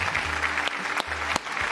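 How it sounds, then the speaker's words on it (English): A small group claps on a podcast set during a UFC 300 recap episode, a brief patter of applause with a steady hum underneath and a couple of sharp knocks. "round of applause"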